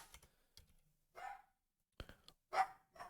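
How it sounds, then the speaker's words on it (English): A pet dog gives a few short, faint barks in separated bursts over a quiet indoor background, with some light tapping like keyboard typing. "Do you hear the dog?"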